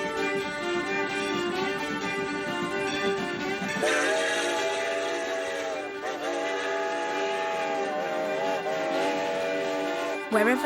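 Funeral train passing with a sustained multi-tone steam whistle that sounds in long steady blasts, shifting pitch partway through and then sounding again in shorter bends, with train rumble beneath and no one speaking.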